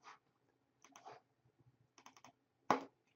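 Brief bursts of computer keyboard typing while naming a layer in image-editing software, quiet clusters of key clicks separated by pauses, ending in one louder, sharper keystroke.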